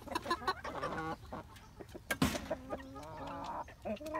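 Nagasaki roosters and chickens clucking up close, a quick run of overlapping clucks and squawks with one sharp louder call partway through.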